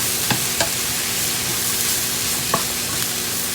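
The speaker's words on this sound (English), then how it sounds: "Our onions and mushrooms are coming along great. Starting to get some color caramelizing on those mushrooms." Onions and mushrooms fry and caramelize in a pan with a steady soft sizzle, broken by a few sharp clicks of stirring.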